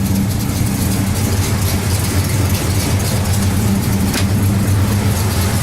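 A 1970 Oldsmobile Cutlass with a 403 V8 idles steadily after a cold start, a loud, close, continuous low rumble with no pauses and no talking.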